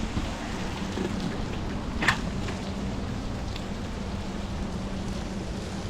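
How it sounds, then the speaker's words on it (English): Steady broadband hiss of heavy rain after a hurricane, continuous and fairly loud throughout, with a low hum underneath and one brief sharp crackle partway through. "It looks like it's pissing it down with rain"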